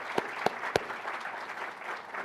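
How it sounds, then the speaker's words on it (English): Applause from an audience at an after-hours networking event, a soft, fairly distant patter of clapping with a few sharper nearby claps early on, continuing steadily at moderate volume. "So let's give them a round of applause."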